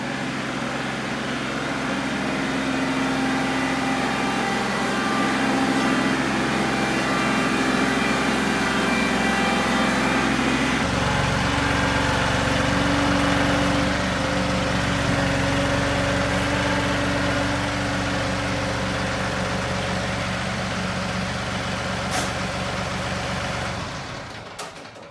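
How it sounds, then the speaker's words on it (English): A John Deere backhoe's diesel engine runs steadily at a close, loud, continuous drone while its hydraulics lower the bucket. The engine note shifts partway through, and it cuts off abruptly at the end. "I do need to hook up my hydraulics so that I can roll the bucket back down"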